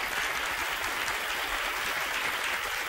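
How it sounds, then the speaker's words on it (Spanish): Studio audience applause on a Spanish television quiz show, steady dense clapping filling the whole stretch at close range with no voices over it. "Un aplauso para Juan Francisco"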